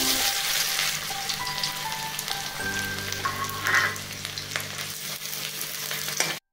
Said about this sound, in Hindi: यहाँ पर मैंने दो बारीक प्याज काट लिया था और इसे ब्राउन होने तक हम भूनेंगे